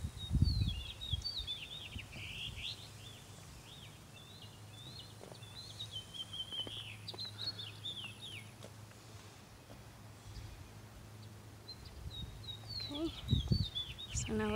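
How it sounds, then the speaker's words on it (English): Many birds chirp and tweet in short, repeated high calls outdoors at street level at the base of a walkway, steady and moderately close across the whole stretch, with low background hum and occasional footstep-like thumps. "Lots of birds chirping."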